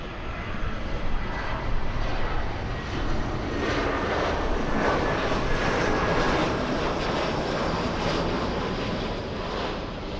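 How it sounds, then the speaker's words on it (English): An Air Canada airliner arriving from Vancouver roars past at LAX, a loud sustained engine rumble and whine that swells through the middle and stays strong as it passes. "This one flying in from Vancouver, Air Canada 554"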